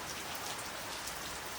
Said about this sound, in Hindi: घर पहुँचते ही इतनी तेज़ बारिश हो